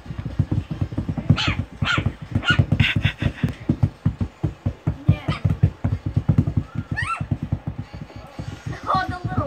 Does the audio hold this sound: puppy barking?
yes